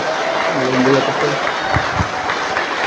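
A church congregation applauds in a dense, steady wash while voices call out over the clapping, with some low thumps partway through.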